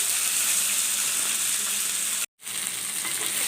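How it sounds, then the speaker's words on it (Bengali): Drumsticks, eggplant and other vegetables fry for a traditional shukto, giving a loud, continuous hiss and sizzle in a pan that drops out briefly for a moment near the end before resuming. "আমি সব সবজিগুলোকে দিয়ে ভালো করে আমি এই সবজিগুলোকে একটু খানিকক্ষণ ভেজে নেব"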